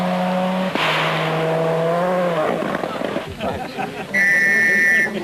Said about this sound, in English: Finns waiting for the next car to arrive, and it's Didier Auriol still in the fight